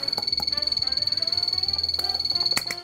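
Frogs croak in a museum exhibit at the American Museum of Natural History, a rapid, even pulsing chorus close by, with a sustained high tone running underneath and a few sharp clicks.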